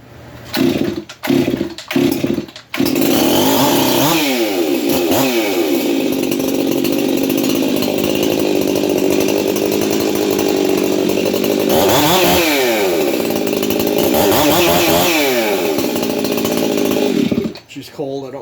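A Stihl MS 362 chainsaw with an aggressive muffler mod, running cold, fires up after a few short pulls and then roars loud and close, its revs climbing and dropping twice before it cuts off.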